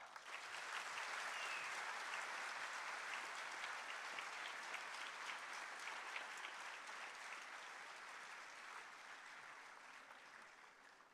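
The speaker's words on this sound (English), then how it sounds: "Dear friends, a huge round of applause because this is the inauguration of the" Students break into a sustained, dense round of applause at the inauguration of an IT block at a Srinagar campus, loud and steady for about eleven seconds and slowly tapering toward the end.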